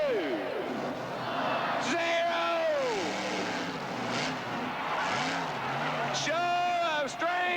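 Two monster trucks, the Taurus truck and the gigantic Orange Crush, pull apart a car at a 1986 monster truck show, their engines revving in repeated rising and falling bursts before a final loud roar.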